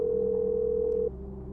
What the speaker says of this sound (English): dialing Maureen's number